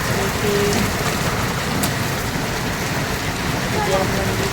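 Steady heavy rain falling outdoors, a dense continuous hiss with occasional louder drops, loud and unbroken throughout.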